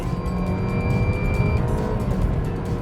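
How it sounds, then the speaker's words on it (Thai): A car accelerates steadily on a test track during a tyre braking test, its engine note rising in a loud, continuous roar with tyre and road noise, heard alone without talk. "เร่งไปเรื่อยๆเดี๋ยวบอกให้เบรก"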